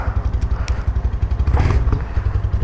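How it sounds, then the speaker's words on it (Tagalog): A big bike motorcycle being ridden: a close, loud low-pitched throb pulsing in a rapid, even rhythm, with a brief swell of mechanical rattle partway through and no talking. "Mukhang matulin yung motor ni Kuya Noy, oh."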